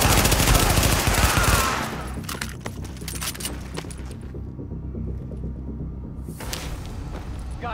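Automatic gunfire from the shooter game The Division bursts loudly over the opening seconds, then gives way to scattered shots, clinks and low rumbling ambience with brief quiet stretches.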